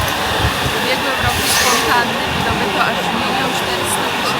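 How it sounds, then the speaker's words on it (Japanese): A vacuum cleaner collecting coins at the Trevi Fountain in Rome hums as a steady, fairly loud whine. It is mixed with crowd noise and a murmur of voices. "これ掃除機でコイン回収してる。"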